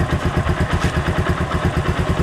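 A Keeway Cafe Racer 152 motorcycle idles just after starting without choke. Its engine beats in a steady, even rhythm, loud and close, with mechanical clatter and no talk.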